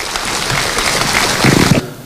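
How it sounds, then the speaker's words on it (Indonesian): An audience gives a short burst of applause for a comedian's friend at a comedy show, a dense crackle of many hands lasting about two seconds, swelling briefly near the end before cutting off. "tepuk tangan buat Mas Tato"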